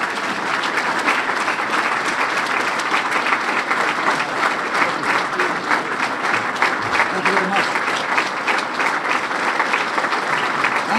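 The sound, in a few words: audience applause welcoming General George Casey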